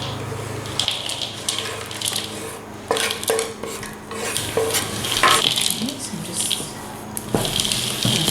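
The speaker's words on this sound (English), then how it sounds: "we're gonna fold that in to the mix" A spatula folds chocolate chips into chocolate cookie dough in a bowl, giving close, irregular scraping and squelching strokes with short pauses between them.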